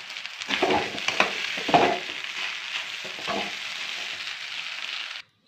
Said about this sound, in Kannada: ಈಗ ಇಡ್ಲಿನ ನಾವು ಉದುರು ಮಾಡಿದ್ದೆಲ್ಲ ಅದನ್ನ ಹಾಕ್ಬಿಟ್ಟು ಚೆನ್ನಾಗಿ ಕಲಸೋಣ.